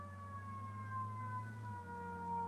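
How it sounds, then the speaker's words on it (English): A fire truck siren wails faintly in the distance, its steady tones sliding slowly downward as the truck moves past at low speed over a low rumbling hum. "That sounds like a fire truck."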